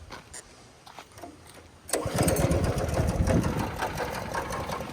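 A small go-kart engine fires up with the choke on and settles into a loud, rough, buzzing run close by, after a quieter stretch of clicks and handling.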